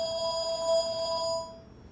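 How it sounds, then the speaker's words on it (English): A phone ringing with a bright electronic tone, one steady ring pattern lasting most of the moment before cutting off, fairly close and alone with no one talking. "So that's my phone"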